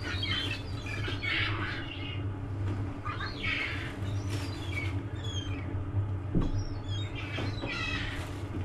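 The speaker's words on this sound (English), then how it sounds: "I'm feeding the seagulls in Blackpool." Seagulls being fed bread on the seafront at Blackpool, a flock squawking and crying repeatedly, some calls close and loud, over steady low background rumble.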